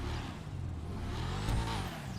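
A Verlierer sports car in GTA Online idles with a low engine drone, then briefly revs up and falls back, a short rising and falling whine over a steady rumble, with no voices.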